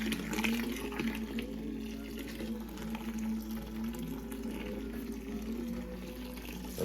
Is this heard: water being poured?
yes